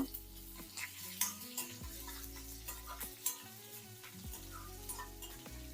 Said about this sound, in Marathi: आधी घालायचं आहे लसूण, मिरची. हे थोडंसं आपण हलवून घेऊया.